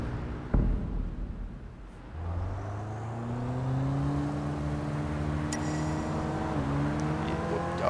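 A taxi in the video game Sleeping Dogs pulls away, its engine note rising steadily and holding a smooth, moderately loud drone as it drives off.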